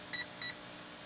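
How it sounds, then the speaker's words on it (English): Two short, high electronic beeps from an RC transmitter being switched on, in quick succession, fairly faint, then quiet. "Transmitter on. Okay, I get these 3 beeps."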